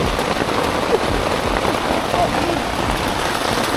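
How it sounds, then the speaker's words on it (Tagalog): Heavy rain pours steadily during a family camping trip at a farm resort, a dense close hiss of drops striking surfaces, with faint voices mixed in beneath. "ang lakas talaga ng ulan"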